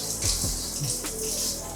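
Hot water gushes steadily from a shower tap in a cramped Delhi home, a close, continuous splashing hiss with a few brief knocks and gurgles.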